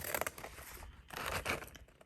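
Scissors cut through sticker paper in short crisp snips and rustles, close and fairly quiet, with a brief pause partway through.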